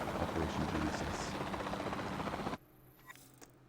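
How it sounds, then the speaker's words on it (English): Capture team helicopter in Jurassic World Evolution 2, a steady loud rotor drone that cuts off abruptly partway through, leaving faint clicks and quiet game sounds. "Then the sensible thing is to take a capture team helicopter."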